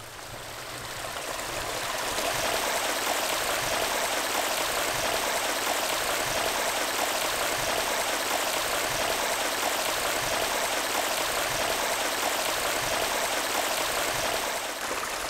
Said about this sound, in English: So over here we've got the stream coming in.